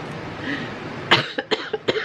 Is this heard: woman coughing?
yes